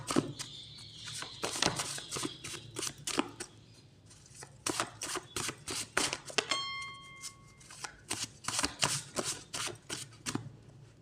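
Tarot cards are shuffled and drawn by hand in quick, crisp riffles and flicks, a close, fairly quiet flurry of papery slaps broken by short pauses, with no voices.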